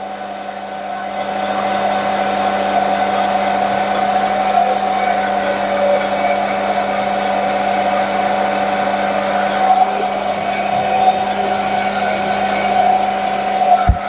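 A machine tool cuts steadily with a loud, sustained mechanical whine and a fixed hum. After a short start-up the drone stays even and continuous, close by and without voices.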